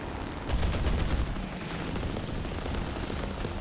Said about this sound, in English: A couple of cannon hits